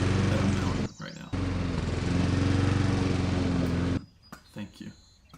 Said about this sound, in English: I'm mowing right now